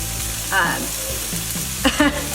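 Garlic and organic extra-firm tofu sizzle and fry in a hot pan, a steady crackle with a couple of brief louder spits and stirring sounds, close by, with no talking.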